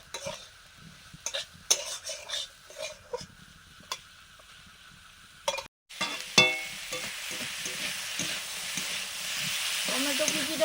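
Chopped capsicum, tomato and onion, with crushed ginger and garlic, sizzle and hiss in a hot pan, with scattered stirring clatter early on, then a steady, louder frying roar after the vegetables go in.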